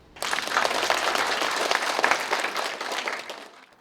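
Applause from an audience at a China-Africa forum: a full room of clapping starts abruptly, holds steady and loud, then fades away toward the end.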